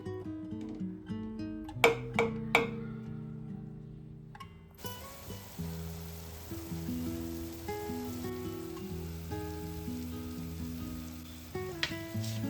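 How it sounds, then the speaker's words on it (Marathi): A pot of water for pea pulao comes to a rolling boil, giving a steady, close hiss of bubbling that runs continuously under soft background music. "आता पाण्याला चांगली उकळी आली आहे."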